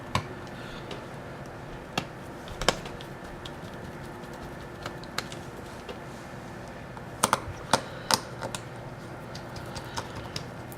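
Small screws being driven back into the bottom case of a MacBook Air during a battery replacement, giving sparse, sharp close ticks and clicks scattered over a quiet background.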